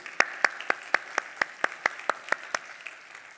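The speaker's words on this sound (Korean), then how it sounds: "우리 하나님께 영광의 박수 한번 올려드립시다." Congregation at a Korean church's Sunday worship service in Seattle clapping together in unison, about a dozen crisp, evenly spaced claps in a steady rhythm that fades out at the end.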